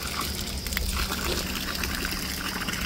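Cold water from a natural mountain spring on the hill road between Haldwani and Ranikhet gushes and splashes steadily close by, a continuous bright rushing flow with no voices over it.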